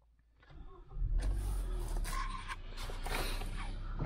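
A car engine starts and settles into a running idle, rising from near quiet into a steady low rumble with some higher mechanical whine, close by.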